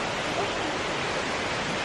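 Aber Falls, a waterfall in the UK, pours in a dense, unbroken rush of white noise that stays loud and even throughout, with no voices over it.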